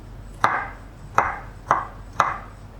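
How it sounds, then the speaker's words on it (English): A knife chops cauliflower into small pieces on a board, with four crisp, evenly spaced cuts, close and clear, and no talking. "you can chop it up into small pieces like this by using a knife"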